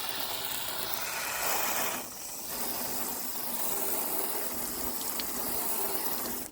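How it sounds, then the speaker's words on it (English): Water sprays steadily onto a cloudy car headlight during a restoration, a close hissing rush that briefly dips and then continues to the end. "we're going to spray the headlight off"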